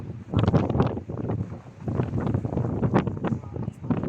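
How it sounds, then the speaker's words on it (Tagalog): Strong gusty wind on the summit of Mt. Napulak in Iloilo buffets the microphone in rumbling bursts, with a voice talking underneath. "lakas ang hangin dito"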